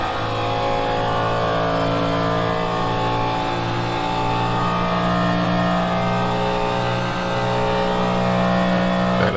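A Cadillac DPi-V.R race car engine in a racing sim drones loudly and continuously at close range, holding a sustained high-revving tone with slight pitch shifts and no talking.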